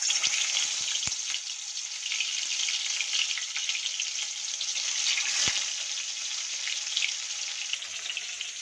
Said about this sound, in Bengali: তো এই মাছগুলো দিয়ে কিন্তু ভালো করে ভেজে তুলে নেব।